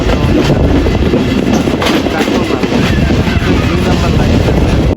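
A Bangladeshi local train runs between stations, a loud continuous rumble and rattle of wheels and carriages filling the whole stretch with little letup.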